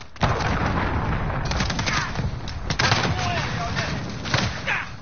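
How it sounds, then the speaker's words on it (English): Explosions and gunfire from a cruise missile strike in the Call of Duty Warzone video game, a dense, continuous rumble of booms and shots with voices mixed in throughout. "cruise missile away"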